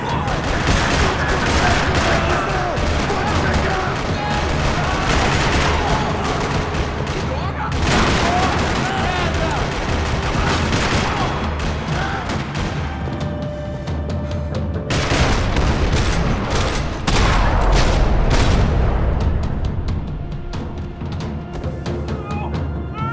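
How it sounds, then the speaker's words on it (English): Heavy gunfire fills a parking lot shootout in the Max Payne 3 video game, dense overlapping bursts and booming shots rattling continuously and loudly, with voices and music mixed underneath. "Another parking lot rattling with gunfire."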